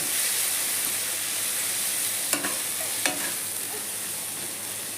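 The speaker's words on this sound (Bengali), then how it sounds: "আদা রসুন ভাজা হয়ে গেছে" Ginger and garlic paste frying in a pan, a steady broad hiss of hot oil with two brief utensil scrapes partway through.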